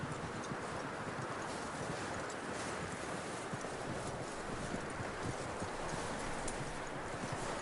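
Horse hooves clip-clop continuously in the Western video game Red Dead Redemption II, a brisk, even rhythm of hoofbeats on dirt, loud and close, against a full outdoor ambience.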